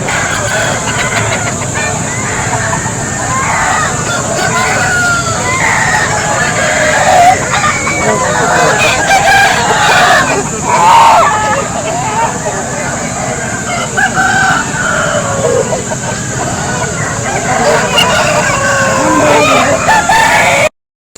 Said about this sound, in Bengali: সম্পূর্ণ একদম নিরেট আসিল মুরগি, ফাইটার মুরগি।